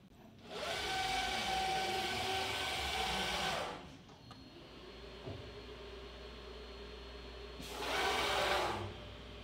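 A FlexCNC machine runs through two bursts of steady whirring and motor hum as it moves to pick up tool two, with a quieter mechanical drone filling the pause between them.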